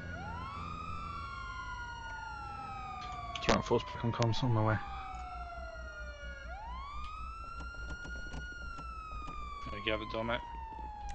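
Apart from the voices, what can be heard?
police siren in the video game GTA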